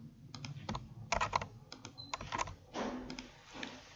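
Names being typed into a table in MS Word 365 on a computer keyboard: bursts of close, crisp key clicks with short pauses and some heavier thumps, over quiet room noise and without speech.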